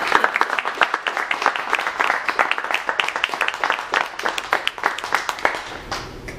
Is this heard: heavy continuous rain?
no